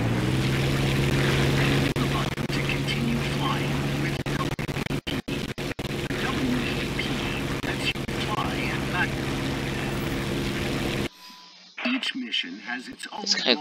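A propeller fighter's engine at war emergency power in the War Thunder video game gives a steady, moderately loud droning hum. A narrator talks over it, and the engine sound drops out near the end.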